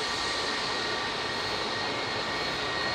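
Jet aircraft engines at Manchester Airport roar in a steady, dense, loud drone with a faint high whine, heard alone and unbroken.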